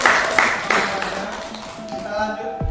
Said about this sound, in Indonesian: Sekali lagi tepuk tangan untuk kelompok satu.